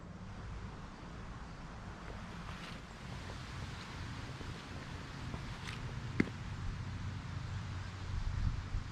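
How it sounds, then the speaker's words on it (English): Steady outdoor wind in West Virginia during hunting season, a broad continuous rushing noise with low rumbling gusts throughout, no voices, and a faint brief knock near the end. "As this wind is blowing,"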